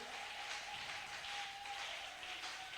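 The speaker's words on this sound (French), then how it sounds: "acclame, acclame Jésus" A church congregation applauding during a prayer and fasting service, producing steady, sustained clapping from a crowd at moderate distance with no break.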